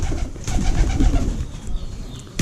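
Pigeons on a pigeon farm coo in soft, repeated throaty rolls, close and fairly loud, with some rustling and no voices.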